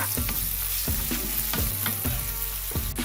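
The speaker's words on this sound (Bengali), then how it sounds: "পেঁয়াজটাকে কখনো ভালো করে ভেজে নেব" Chopped onion with panch phoron frying in hot oil, a steady loud sizzle broken by regular scraping stir strokes roughly every half second, close and continuous with no voices.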